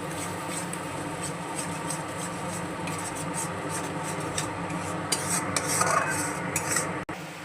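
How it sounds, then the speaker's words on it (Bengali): Masala being stirred and fried with tomato paste in a pan for a pabda fish curry, a continuous scraping, rubbing stir with soft sizzle underneath, growing busier near the end. "টমেটো বাটাটা দিয়ে আবারও ভালো করে কষিয়ে নেব।"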